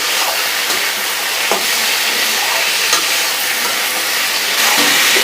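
Small chopped potato pieces fry together with chickpeas in a pan, producing a loud, dense, continuous hiss of sizzling oil with faint stirring knocks scattered throughout.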